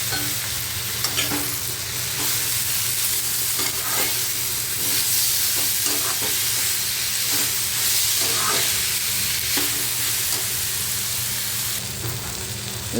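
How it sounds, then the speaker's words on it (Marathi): Eggplant, potato and tomato are stirred and sautéed in oil for a Maharashtrian dried-shrimp curry, a loud continuous sizzle with a steamy hiss and repeated scraping strokes of a spoon through the pan, no speech. "आता हे सगळं आपण व्यवस्थित परतून घेऊया"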